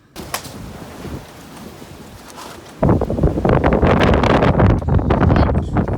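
Loud, blustery storm wind roars against the microphone, surging sharply partway through and staying heavy and turbulent to the end.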